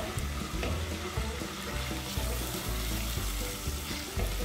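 Chicken sizzling hard in a hot pan for a Chinese-style soup, a loud, dense, continuous crackle and hiss with occasional stirring, close up and without pauses.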